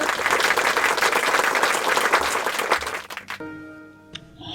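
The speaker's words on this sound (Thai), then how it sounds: "ปรบมือต้อนรับนักสู้เมืองหนองบัวครับ" An audience claps to welcome a challenger from Nong Bua Lamphu before a board game match against a master, with full sustained applause for about three seconds that then drops off to quiet.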